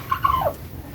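Young chicks peeping in a backyard breeding setup, with a few short high chirps over about a second, close and moderately loud, with no talking.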